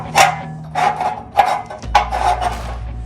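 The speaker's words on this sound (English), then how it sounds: "you want to slide these brackets into that hole." Metal brackets slide into the holes of a Go Rhino Dominator Xtreme D1 side step for a Jeep Wrangler Rubicon Xtreme Recon, giving several short, close scraping rubs in an uneven rhythm, with no talking.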